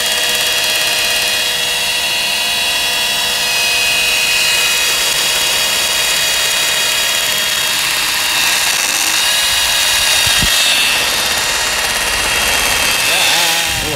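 A Milwaukee power drill whines loudly and continuously while priming the engine oil pump of a 1968 Winnebago, a steady high-pitched motor hum with brief clanks near the end.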